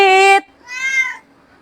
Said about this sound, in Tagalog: Ito yung pusa namin.